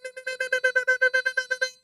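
Morse code sent as a fast, even series of about thirteen short pure beeping tones with a clean, bright pitch and no voices.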